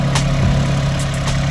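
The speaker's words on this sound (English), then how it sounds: "We've got the rotary cutter attached to the tractor, and we're just gonna go for it" A tractor fitted with a Yanmar YRC205 rotary cutter idles close by, a steady low drone with a short dip in pitch and a few brief clanks over it.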